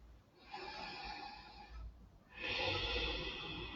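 Slow, deep breathing during an advanced vinyasa yoga session: a long airy inhale or exhale, a brief pause, then a stronger, louder breath, all close to the microphone with no talking.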